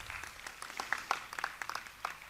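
Scattered, fairly faint clapping from an audience at an annual music festival award presentation, with uneven individual claps rather than a full roar, lasting a couple of seconds.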